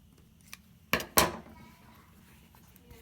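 Two sharp snips of scissors cutting through the back of a leather moccasin, close and distinct, followed by quiet handling noise.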